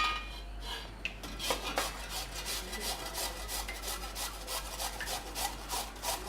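Cucumber being rubbed against a grater for raita, a steady run of quick rasping strokes close by, fairly soft and with no talking.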